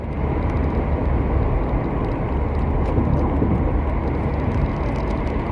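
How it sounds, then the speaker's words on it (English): Steady car engine droning at high RPM from inside the moving vehicle, a constant broadband roar with road noise and no speech over it. "Now that I'm listening to my car wind up at a high RPM."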